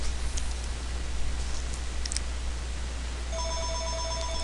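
A phone rings over a steady hiss of background noise, with a few faint clicks early on, then a pulsing electronic ring tone that starts late and repeats in short bursts.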